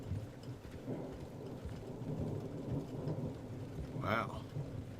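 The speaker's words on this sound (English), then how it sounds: "That's thunder." A thunderstorm in the video game Red Dead Redemption, with steady rain and a low rolling rumble of thunder. A brief sharp crack of thunder sounds near the end.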